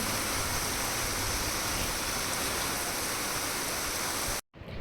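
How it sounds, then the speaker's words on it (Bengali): Heavy rain pours down in a steady, dense hiss with no letup, loud and close, before cutting off abruptly near the end. "এক্ষুনি বৃষ্টি শুরু হয়ে গেছে আর এত জোরে বৃষ্টি হচ্ছে প্রচুর জোরে বৃষ্টি হচ্ছে"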